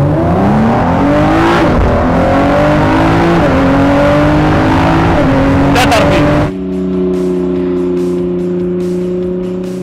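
A Ford Performance car engine revs hard, rising in pitch through several gear pulls before settling into a steady, loud idle drone; people talk over it.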